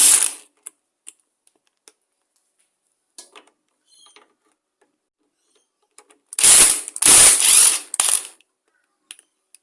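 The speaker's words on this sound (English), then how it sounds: "So now we'll remove the air filter housing and the carburetor off." A ratchet on an old lawn mower, used while taking off the air filter housing and carburetor. A few sparse, quiet clicks come first, then two loud, fast bursts of close ratcheting near the end.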